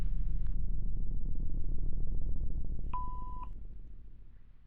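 Telephone dialing tones in a sound story play as a short beep near the start and a clear sustained dual tone later, over a low droning background that fades toward the end.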